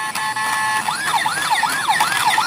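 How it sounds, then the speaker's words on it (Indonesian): A toy ambulance siren wails in repeated rising and falling sweeps, fairly loud and close, over a steady background hum. "Ada mobil ambulan."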